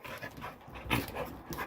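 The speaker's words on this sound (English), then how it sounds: "I think my dogs are happy to have me out on the porch with them." Dogs panting close by on a porch, steady quick breathing in soft repeated bursts, fairly quiet, with no talking over it.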